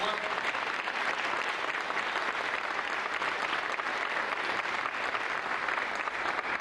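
A crowd gives a steady, even round of applause for a man being thanked at a community event, holding at moderate loudness throughout with no clear voices on top.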